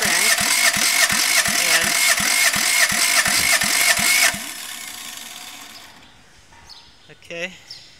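A Toyota 1MZ-FE 3.0-liter V6, removed from the car and cranked on a stand for a compression test, churns loudly in a steady rapid rhythm for about four seconds, then stops; quieter shop noise and a brief voice follow.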